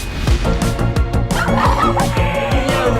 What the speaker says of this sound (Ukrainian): У нас кури завелися.